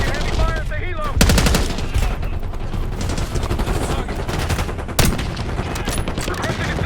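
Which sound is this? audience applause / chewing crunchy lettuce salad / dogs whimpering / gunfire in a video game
gunfire in a video game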